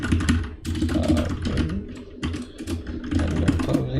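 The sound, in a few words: typing code on a computer keyboard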